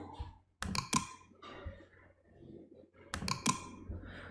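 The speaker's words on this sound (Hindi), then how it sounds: "तो मैं डबल क्लिक करता हूँ इस पर" A computer mouse double-clicks twice while school management software is being installed. Each double-click is a pair of crisp, close clicks, and the two pairs are a few seconds apart over a faint quiet room.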